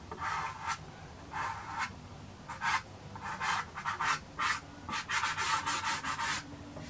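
Soft pastel stick rubbing onto paper in a pastel beach painting, a series of short, close dry scratchy strokes in irregular bursts, some quick and clustered, with brief pauses between them and no voices.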